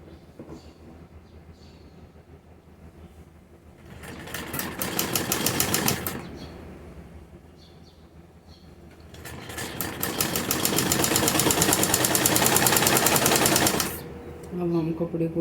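A sewing machine runs a straight seam on a salwar, its fast needle chatter rising in two close, loud bursts of about two and four seconds separated by quieter pauses, with a voice talking faintly around the stitching.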